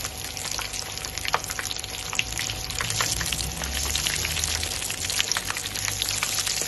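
Shallow-fried eggplant pakoras sizzle in hot oil, a dense steady crackle with scattered sharp pops, close and constant throughout.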